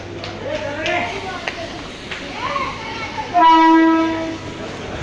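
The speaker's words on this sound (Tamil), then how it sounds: "Andheri, it's a big railway station." Mumbai local train at Andheri railway station, a big busy stop: steady rumble of the train and crowd chatter, then a loud, sustained horn blast near the end, close by.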